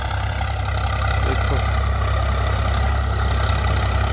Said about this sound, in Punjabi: ਸਾਰੀ 1200 ਚੱਕਰ 'ਤੇ ਚੱਲਦਾ ਟਰੈਕਟਰ, ਪਹਿਲੇ ਹਾਈ 'ਚ